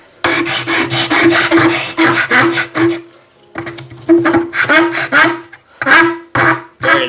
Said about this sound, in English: So the reason you want to sand is to kind of round it.